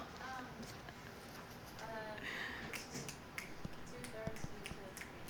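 In a classroom, crisp finger snaps pop repeatedly in an uneven rhythm, close by, over a steady murmur of voices and background noise.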